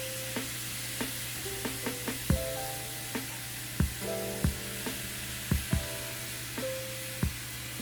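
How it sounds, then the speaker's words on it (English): About 100 grams of beef tapa sizzles in a hot pan, a constant close hiss broken by repeated sharp spatula clicks and scrapes at uneven intervals. "when your pan's hot enough, now you can add your tapa"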